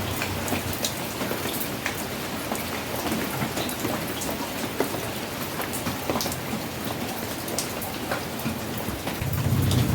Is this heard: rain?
yes